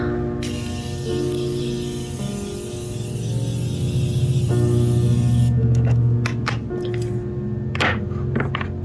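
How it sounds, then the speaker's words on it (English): Morphe Continuous Setting Mist sprayed onto a face, a steady hissing spray lasting several seconds over a faint background hum, followed by a few soft taps and knocks. "I am going to set my face with the Morphe Continuous Setting Mist"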